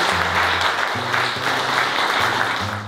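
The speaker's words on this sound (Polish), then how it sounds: "Gorące brawa!" An audience claps warmly at a foundation's twentieth-anniversary jubilee event, with loud, sustained applause filling the room throughout and low tones underneath.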